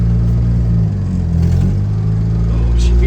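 A 1966 International Scout engine rumbles loud and close, its low drone rising slightly as it revs while being shifted toward reverse, with a person talking briefly over it.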